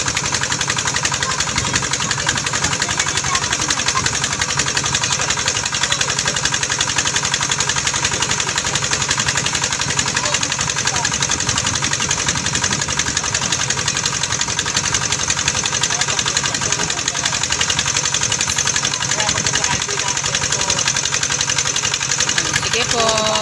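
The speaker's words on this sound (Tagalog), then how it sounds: "Kaya may naririnig kayong makina na ano, tumutunog." An irrigation water pump engine at a rice farm in Pampanga drones steadily the whole way through, loud and constant with a slight rattling vibration.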